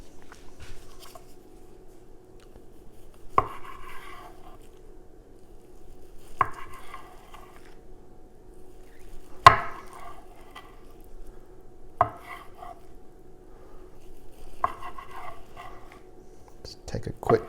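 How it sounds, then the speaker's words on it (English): A dull knife slices through a smoked sausage fatty rolled with cinnamon roll dough on a board, giving about six separate, sharp cutting thumps spaced a few seconds apart in a quiet room. "Let's go ahead and cut it up."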